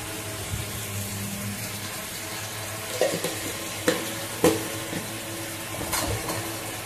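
Spice masala for stuffed pointed gourd dorma sizzles in a pan while being stirred, a steady frying hiss with a few sharper scrapes of the spoon near the middle, no voices.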